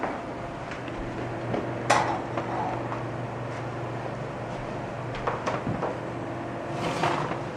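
A baking pan of freshly baked shortbread is set down on a stovetop with a few light metallic clanks and knocks over a steady room hum, no voices.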